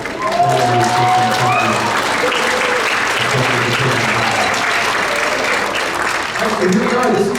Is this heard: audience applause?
yes